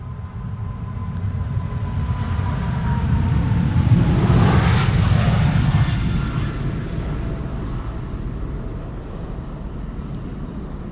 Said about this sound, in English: KLM climbing out against a cloudy sunny backdrop.